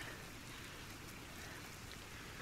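Steady in-game rain in The Legend of Zelda: Tears of the Kingdom, a soft continuous hiss of falling drops that stays even and fairly faint throughout with no voices.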